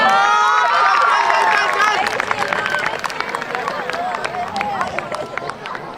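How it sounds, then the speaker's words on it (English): A crowd at a school sports day prize-giving bursts into applause and cheering, loud clapping and shouts at first, then thinning into scattered claps and crowd chatter. "Give them a big round of applause."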